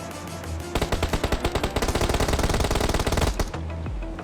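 Rapid bursts of AKM rifle fire in a shooter video game, a loud run of sharp close shots in quick rhythm, briefly broken, then a longer sustained burst before the firing stops.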